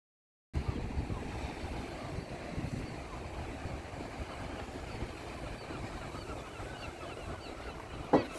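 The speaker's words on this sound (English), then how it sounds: "you guys can hear how peaceful it is over here, the sound of the waves and the birds" Ocean waves wash in a continuous, low rumbling roar mixed with wind noise, steady throughout with a brief sharper sound near the end, on a coast in Scotland.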